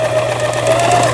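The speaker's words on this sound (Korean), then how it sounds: "20년 세월이 흐른 기계라고는 생각되지 않게 굉장히 부드럽게 바느질 돼서 나오네" A Janome Lion 419s sewing machine stitches fabric with a fast, even mechanical whir and a high motor tone, close and loud throughout, with no talking.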